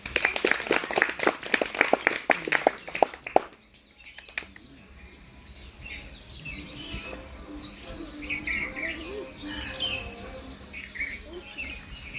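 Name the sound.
audience clapping at a village street magic show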